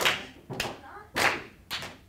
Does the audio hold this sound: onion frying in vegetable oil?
no